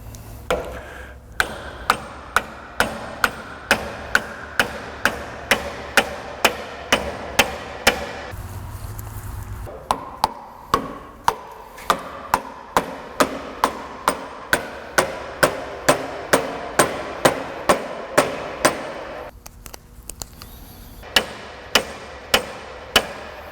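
Someone works on truck rear leaf spring parts with a hammer, landing sharp metallic blows in a steady rhythm with brief pauses between runs, loud and close with no talk.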